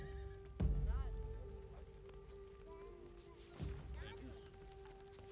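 A horse whinnies twice in the Dawn of Man video game, a loud neigh followed by a shorter, fainter one, with hoof clip-clops and a steady game tone underneath.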